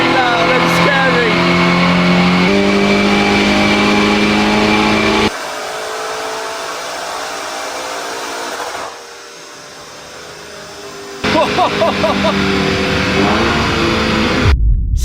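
A bass-tuned Lamborghini Urus revs hard on a dyno, holding a loud, sustained roar that drops back, fades low, then surges again with sharp, rising revs near the end.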